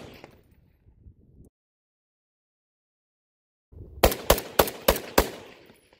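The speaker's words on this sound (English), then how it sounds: "So let's start shooting and see how it performs" FN FAL rifle fitted with a Halbek device, firing five sharp, loud shots in quick, rapid succession after a stretch of near silence, each shot cracking crisply with a short ringing tail.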